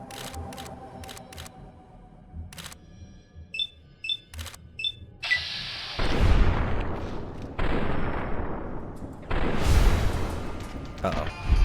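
Nightkin rocket launcher fire in Fallout: New Vegas lands as repeated heavy, roaring blasts with long rumbling tails, following earlier sharp clicks and beeps, all loud and close.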